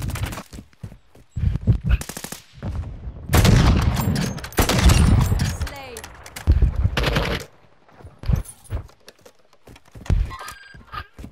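Bursts of automatic gunfire crackle in Call of Duty: Modern Warfare II, with rapid loud volleys in clusters and scattered single shots between them, and some talking over the action.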